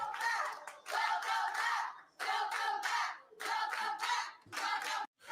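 A group of women backstage cheer and shriek for Charlotte Flair after her Royal Rumble win, in repeated excited bursts of screams and clapping separated by brief pauses.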